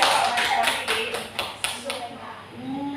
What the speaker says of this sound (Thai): หาดใหญ่เราปรบมือค่ะ